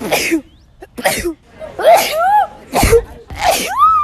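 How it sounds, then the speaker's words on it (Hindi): A girl sneezes five times in a row, each sneeze sharp, loud and close, with brief breathy pauses and gasps between them. "ऐसा लगता है कि वो बहुत बार छींकती है।"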